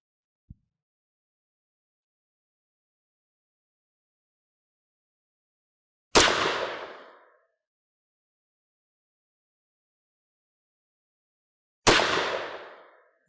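.22 Magnum rifle firing Game Point ammunition outdoors, two loud sharp shots about six seconds apart, each ringing off in a short decaying echo against near silence, with a faint tick before the first.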